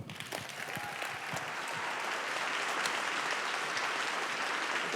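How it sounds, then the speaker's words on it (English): A live audience breaks into sustained, dense applause as a speaker is introduced at a justice-themed event, the clapping swelling quickly and holding steady throughout, with faint voices mixed into the crowd noise. "Give a rousing round of applause for my brother,"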